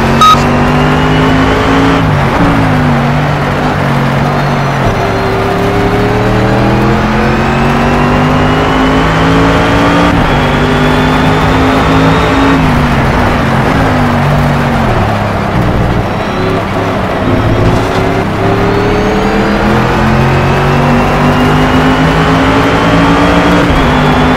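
Mercedes SLS GT3 race car engine in Project CARS at Brands Hatch, loud and close, repeatedly revving up through the gears with sharp shifts and dips as it races the circuit.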